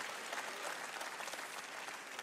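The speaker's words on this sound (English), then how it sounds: "Come on, clap your hands." Audience clapping hands at a church gathering with a guest speaker, dense sustained applause from a crowd, fairly distant and even throughout.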